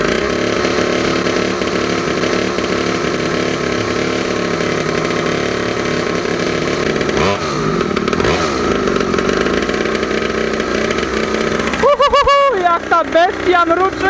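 A two-stroke engine, apparently a small power tool such as a chainsaw, run on two-stroke oil. It is attempted to be started, then fires, sputters and revs unevenly with sharp rising bursts near the end, loud and close.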